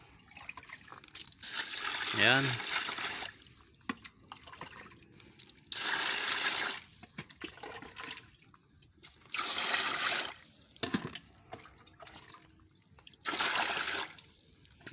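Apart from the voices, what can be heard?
water poured over sorghum grains for soaking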